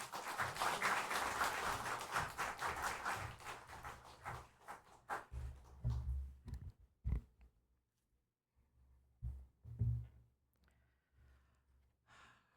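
A church congregation applauding to welcome a pastor to the pulpit, with a dense burst of clapping that thins out and fades into scattered claps and quiet.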